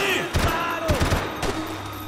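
Gunfire in the video game Max Payne 3, a few quick bursts of shots in short clusters over game background sound, with a voice talking between them.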